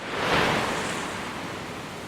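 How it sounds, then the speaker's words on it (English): A roaring rush of water pours down the curved walls of the four-storey Surreal water feature at Expo 2020 Dubai, a dense, steady crash that swells early and holds loud throughout. "The size of the Surreal water feature is truly impressive. Rising 4 stories high, the water comes crashing down from all around you."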